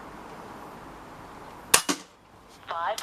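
A Webley Raider 12 air rifle fires a single sharp, loud crack up close, followed by a brief mechanical clack and then a short rattling metallic whir against quiet background hiss.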